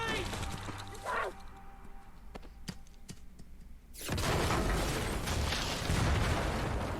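A grenade blast from a zombie TV drama bursts out suddenly and loudly after quieter ambience, leaving a sustained roar of debris and rumble, with some talk and reaction beforehand.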